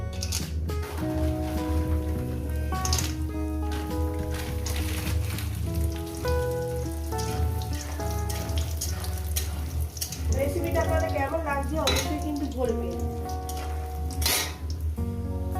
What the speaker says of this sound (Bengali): বন্ধুরা প্রথমে আমি বড়িগুলো ভেজে নেবো তেল আবার গরম হয়ে গেছে